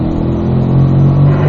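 A Corvette accelerates hard out of a corner on a race track, its engine roaring loud and close with a low, steady note that firms up over a short burst.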